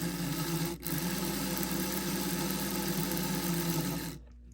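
Freshly oiled gears of a restored Kleinbahn Blauer Blitz toy train run with a steady, close mechanical whir and hum that dips briefly once, then cuts off abruptly near the end.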